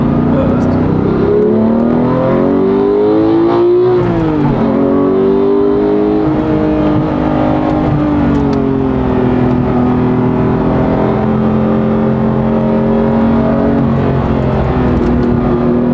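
Porsche 991.2 GT3 track car pulling hard at high revs from inside the cabin, its engine note rising and falling with shifts under steady loud roar, while people talk over it.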